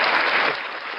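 A short burst of audience applause welcoming a guest to an online webinar, a smooth wash of clapping that drops in level halfway and tails off.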